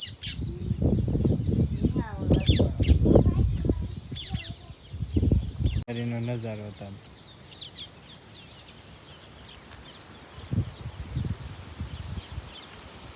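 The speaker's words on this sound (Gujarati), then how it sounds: "બધા પક્ષી ઉડવાય માંડ્યા" Birds calling after a windstorm, scattered chirps and calls in the open air beneath a person talking, then quieter outdoor ambience with faint rustling and occasional bird calls.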